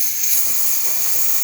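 Steam wand of a DeLonghi Magnifica espresso machine hissing in a steady, loud, continuous rush.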